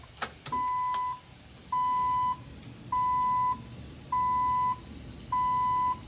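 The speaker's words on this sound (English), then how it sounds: "Hazard lights" A Jeep TJ's hazard light indicator sounds as five evenly spaced electronic beeps, each lasting about half a second with a steady pause between, clear and alone in a quiet cabin.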